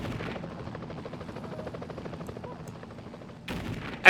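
In the Geopolitical Simulator 4 video game, helicopter rotors chop steadily while bursts of gunfire rattle on through the fight, ending in a sharp loud blast.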